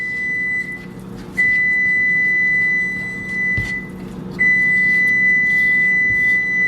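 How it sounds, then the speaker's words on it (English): Two steady electronic beeps from a preheating oven, each a long high tone that holds for a few seconds, over a low background hum with faint clatter. "So that noise is my oven."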